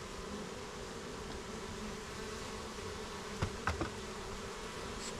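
Steady broadband buzzing of many bees around a hive near a swarm trap, continuous and fairly close, with a few sharp knocks near the end.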